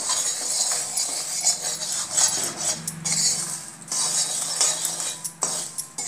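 Makhana lotus seeds being roasted in desi ghee, a spoon stirring and scraping them around the pan with steady light clinks, scrapes and rattles, close up and without talk.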